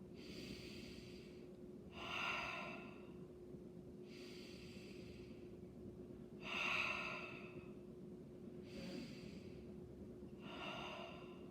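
Three slow, deep inhalations by a person during a singing breathing exercise, each breath a soft rushing draw of air with quiet pauses between, close and alone.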